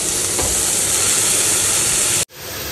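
Vegetables seasoned with salt and turmeric sauté in a pan, making a loud, continuous sizzling hiss that cuts off abruptly near the end and then resumes more quietly.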